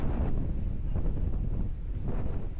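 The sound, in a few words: strong wind at a campsite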